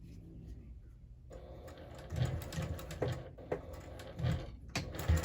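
Small sewing machine running a short box stitch on a fabric hobo bag, faint and close, with a steady whir and uneven clicking bursts as it moves back and forth.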